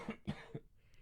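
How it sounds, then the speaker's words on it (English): A person coughing, three harsh close coughs in quick succession followed by a faint breathy sound, with no talk. "this cough must be doing your head in"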